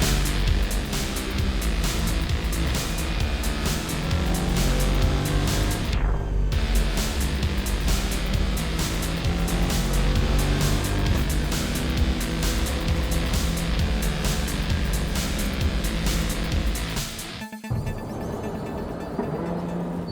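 A Mercedes-AMG GT4 race car is driven on a circuit, its engine roaring loud and unbroken for most of the stretch, with a brief drop and a sudden cut near the end.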